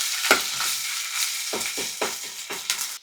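Ginger garlic paste frying in a pan, a loud close sizzle with several sharp stirring scrapes and spatters at irregular intervals over a few seconds, no talking.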